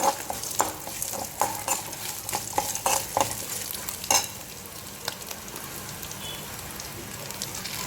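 Onion frying in a pan with curry leaves and mint for chutney, a continuous crackling sizzle dotted with sharp spatula taps and stirring knocks, busier at first and calmer toward the end.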